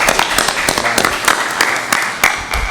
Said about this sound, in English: can we give him a collective round of applause